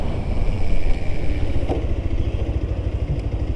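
A Bajaj Pulsar 125 motorcycle brakes hard from 80 km/h, its engine rumble and rushing wind loud and close, with a throbbing mechanical pulse as it slows.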